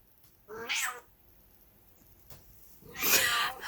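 Cat meowing close by indoors, two distinct drawn-out meows a couple of seconds apart in an otherwise quiet room.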